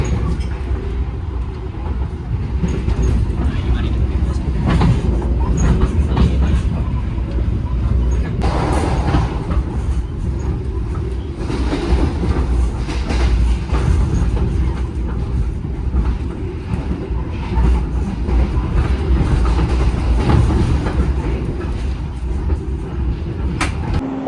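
The KA Pandalungan passenger train runs along the rails, a steady loud rumble of wheels and carriage noise heard from inside with faint clickety-clack throughout and no pause.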